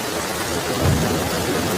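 Steady rain pours through a rainy night at a sweet shop in a Bengali horror cartoon, a dense, even hiss that fills the scene with a slight swell near the middle.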